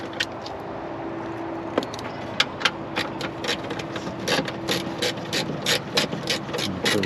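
Ratchet loosening a 7mm bolt on a 2024 GMC Hummer EV: a steady run of quick, close metallic clicks repeating through the whole stretch, with a few sharper knocks and a faint hum underneath.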